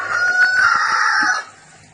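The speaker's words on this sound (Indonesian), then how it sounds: "Ayam yang jawab." A rooster crows once, a loud, sustained cock-a-doodle-doo lasting over a second and fading into quiet; no talk over it.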